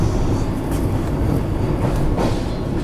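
A Vande Bharat train pulls away from the platform at Jaipur station, a loud, continuous low rumble with rushing noise filling the whole stretch.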